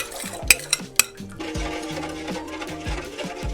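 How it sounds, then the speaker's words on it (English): A spoon stirs a warm apple cider and brown sugar glaze in a pot, opening with a few sharp clinks against the metal. Steady, close scraping swirls follow with no talk. "Just keep stirring this because you want to have a little thickness in it."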